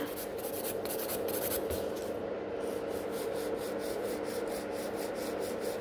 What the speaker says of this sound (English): I'm really concentrating where I'm filing, because I cannot file this place anymore here